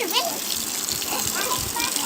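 Water rushes from an opened tap in a steady, loud gush that fills the whole moment, with a voice and other talk mixed in over the flow.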